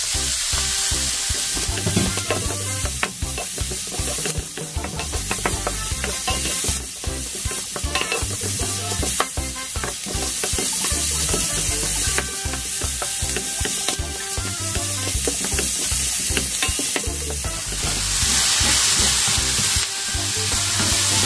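Bacon sizzles steadily in a hot pan while being stirred, a dense continuous crackle with repeated scraping strokes throughout, loud and close with no talking.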